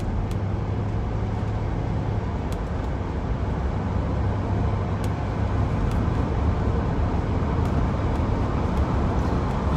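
A late Jaguar XJS 4.0 coupe with automatic gearbox cruises along the road, heard from inside as a steady, even drone of engine and road noise that holds constant throughout, with no talking.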